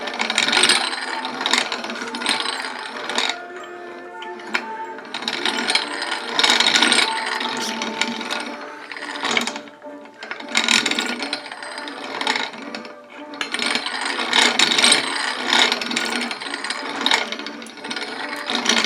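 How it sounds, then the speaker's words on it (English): The burr on a Model No. 1 1/2 hand coffee grinder is turned loose with a repeated ratcheting, grinding metal clatter. It comes in long rhythmic bursts with brief gaps between them, and no voices are heard. "Now loosen the burr."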